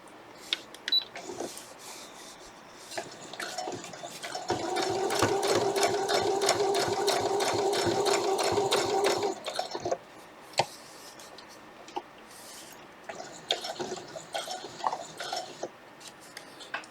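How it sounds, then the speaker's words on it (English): A sewing machine runs a zigzag stitch along the edge of vintage Sunbonnet Sue quilt blocks, a steady rapid needle clatter lasting about five seconds, bracketed by lighter clicks and handling noises before and after. "zigzag stitch"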